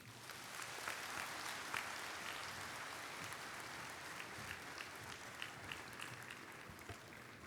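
Audience applause after a speech by Union Minister Nitin Gadkari at an annual session, a dense, sustained clapping from a large crowd that runs steadily for the whole stretch with scattered sharper claps.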